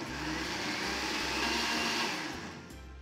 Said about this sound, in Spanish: le vamos a agregar la gelatina que ya disolvimos y lo volvemos a licuar